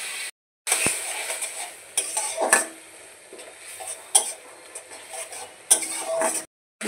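A ground poppy-seed and mustard paste is stirred with a little water in a pan, with a spoon clinking and scraping against the metal in scattered knocks over quiet background hiss.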